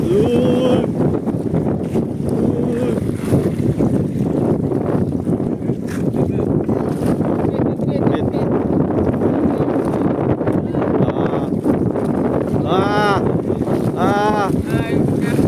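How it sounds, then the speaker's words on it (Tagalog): Strong sea waves and gusting wind buffet a small fishing boat off Tanza, Cavite, during light-jig fishing, a loud continuous wash and rumble under the voices of people talking throughout. "Lakas na ng alon."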